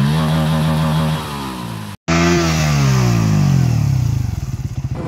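Motorcycle engine revving up close, rising and falling in pitch through repeated throttle blips, with a brief cut in the middle and a sputtering exhaust pulse toward the end.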